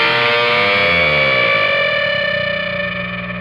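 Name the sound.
electric guitar super bend behind the neck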